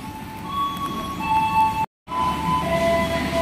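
Passenger train at a platform in Bandung station, a steady rumbling hum with high tonal whines, cut by a brief dropout near the middle, then resuming at the same level.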